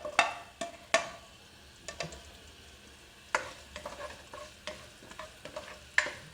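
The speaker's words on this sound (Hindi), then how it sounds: "अब इसमें मैंने ये जो एक बड़ी प्याज ली थी ये मैं शामिल कर रही हूँ।" A large onion frying in oil in a pan for arvi gosht, soft sizzle broken by sharp clicks and taps of a spoon stirring, fairly quiet with no talk.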